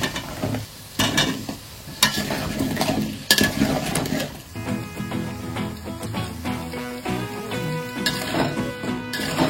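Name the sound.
potatoes frying in a pan for mutton curry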